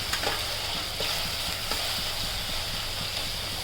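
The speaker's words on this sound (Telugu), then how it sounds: "ఇది బ్రౌన్ కలర్ వచ్చే వరకు వేపాలండి, అంటే ఎరుపు రంగు వచ్చే వరకు వేపుకోవాలి." Fish egg bhurji frying in a pan until browned, with a continuous close sizzle and light, irregular stirring taps.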